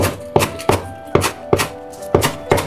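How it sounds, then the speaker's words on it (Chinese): Knife chopping fresh green onions into small pieces on a cutting board, a close series of about eight sharp, quick thuds in an uneven rhythm, with no voices. "切成葱花。"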